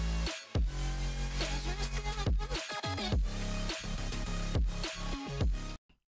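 A future trap remix transition leading into the drop, with heavy sustained sub-bass, dense synth chords and sharp rhythmic hits, loud and continuous before cutting off abruptly at the end.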